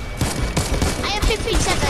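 Rapid, dense gunfire rattles on without pause while shooting at zombies in a zombies video game, loud and close, with a voice talking briefly over the shots.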